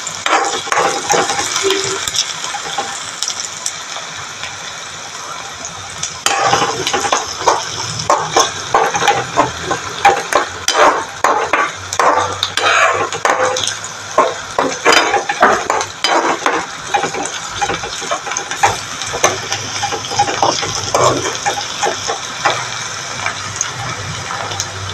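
Potato, carrot and plantain upperi stir-fried in a pan produce a steady, dense sizzle with constant scraping and stirring clatter that runs throughout, close and fairly loud.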